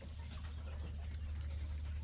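Young chicks and grow-out birds chirp softly in cages under warming lights, a faint scatter of peeps over a steady low hum.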